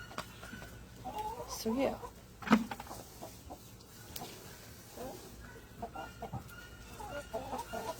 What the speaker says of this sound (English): These chickens are loving these bean strings.